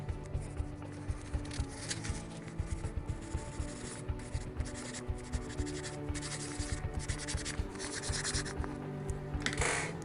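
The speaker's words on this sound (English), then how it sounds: "I'll draw an example." A pencil or pen sketches on paper up close, quiet scratchy strokes in short repeated bursts with small pauses, no talking.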